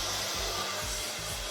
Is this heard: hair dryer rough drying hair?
yes